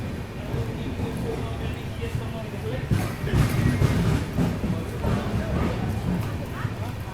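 Passenger train pulling into Mahoba Junction in Uttar Pradesh, running about an hour and a quarter late, with a steady low rumble and clatter of rolling cars and a person talking over it throughout.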